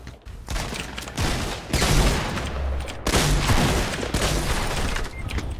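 Dense gunfire in Fortnite, with near continuous rapid shots and booming blasts that stay loud and close through the whole stretch.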